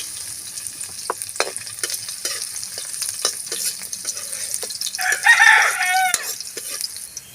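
Garlic sizzles softly in a pan, a light continuous frying hiss broken by scattered clicks and taps of a utensil, with a brief louder flare of sizzling near the end.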